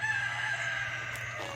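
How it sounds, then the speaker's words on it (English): A rooster crowing once in a drawn-out call, moderately near, over a low steady hum in an outdoor garage setting, with no talking. "that rooster just will not let up, will he?"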